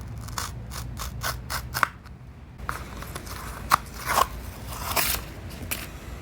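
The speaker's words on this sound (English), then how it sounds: "I just need to snip this off." Close snips and crunchy cuts from a hand cutting tool trimming a piece of a part for an electric steering column on an old pickup truck, several sharp clicks in an irregular sequence with no talk.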